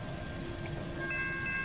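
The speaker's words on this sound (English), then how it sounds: "Oh, look at this. We got a high railer." A high railer rail vehicle rolling along the track, a low steady rumble with thin tonal squeals or horn-like tones rising near the end, fairly close and continuous.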